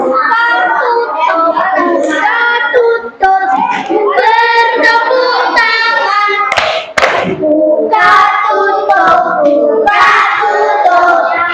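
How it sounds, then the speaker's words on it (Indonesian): Children clap their hands in a classroom, steady rhythmic clapping mixed with singing voices throughout, loud and close. "Tepuk tangan lagi"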